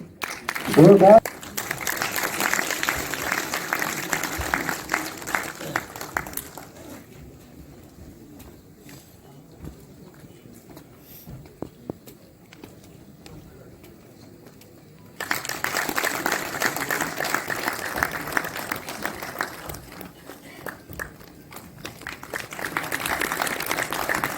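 Applause from an audience at a Swami Vivekananda Health Mission Society convention, a broad, steady clatter that fades to a quieter stretch midway before swelling back, with some talking beneath.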